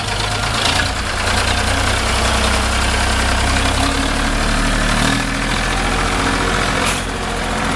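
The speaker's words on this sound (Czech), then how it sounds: "Jede traktor, jede Zetor, Michal Holub." A Zetor tractor's diesel engine runs loud and close at a tractor rally, a steady low rumble and chug that shifts slightly in pitch as it works.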